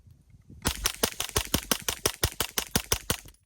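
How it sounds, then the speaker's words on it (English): A Kriss Vector Gen 3 fitted with a HUXWRX Flow 9K TI suppressor is fired as a full magazine dump at an outdoor range: about fourteen sharp, muffled shots in a rapid, even string, close and loud, with no talk. "Kriss Vector Gen 3. And a mag dump."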